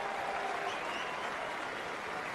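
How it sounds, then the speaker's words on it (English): Ballpark crowd at a Tuesday night baseball game gives a slow-building ovation welcoming back catcher James McCann, a steady wash of clapping and cheering at even loudness throughout. "it's a slow building ovation"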